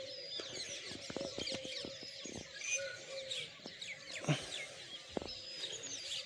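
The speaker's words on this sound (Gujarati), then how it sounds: "જો પક્ષીઓ બોલું બધા" Village birds chirping and singing at dawn: many overlapping tweets and trills, some near and some farther off, with scattered sharp clicks and knocks in between and no talking.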